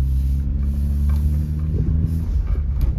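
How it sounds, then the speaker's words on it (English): A high-mileage 2000 Toyota Avalon XLS driving along, with a steady low engine and exhaust rumble inside the cabin, continuous and moderately loud with no talking. "You're gonna hear some exhaust sound."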